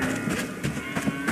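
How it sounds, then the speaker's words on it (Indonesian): Cattle mooing in the Bellwright video game, a few low, drawn-out calls at moderate level over a steady game background. "Oh, sapi putih udah ada 2 ya."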